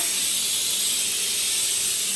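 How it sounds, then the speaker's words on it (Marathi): A pressure cooker in a home kitchen lets off a loud, steady hiss of escaping steam close by, with no break and no voices. "एकीकडं कुकरला शिट्ट्या"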